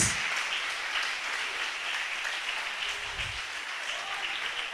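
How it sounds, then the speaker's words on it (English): An audience at a national championship quarter final breaks into applause, a steady moderate round of clapping that holds for several seconds without talk. "Let's give her a rousing round of applause."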